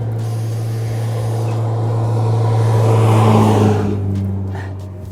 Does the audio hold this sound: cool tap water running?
no